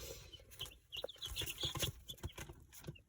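Baby chicks cheep in a close, busy chorus of high peeps, with soft clucks and light scratching and pattering underneath, fairly quiet overall.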